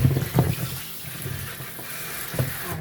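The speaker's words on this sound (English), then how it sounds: "So I'm washing the Irish and the turnip." Irish potatoes and a large turnip washed under running tap water in a kitchen sink, a steady faint splashing stream with a few louder bumps and sloshes near the start and end.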